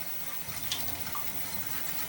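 Cold tap water rinses through a Wagner Flexio paint sprayer in a sink, a steady close rushing flow with no voices.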